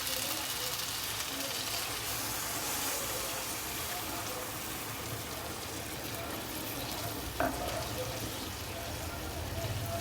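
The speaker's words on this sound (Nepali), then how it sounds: "थोरै पानी हाल्छु" Water is poured into a pan of fried chicken curry masala, giving a steady broad hiss and sizzle that continues for several seconds, close and moderately loud, with a brief clink near the end.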